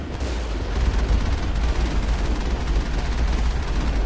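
A vehicle-mounted gun fires in the video game Mass Effect, a dense continuous barrage of rapid booming shots over a heavy low rumble, loud and close with no talking.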